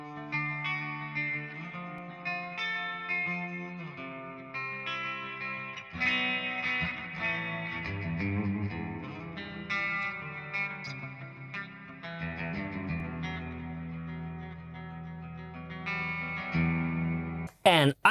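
Electric guitar played through a Walrus Audio MELEE Wall of Noise pedal, blending aggressive fuzz distortion with wide reverb, rings out in sustained chords and notes, loud and continuous, ending with a sharp burst.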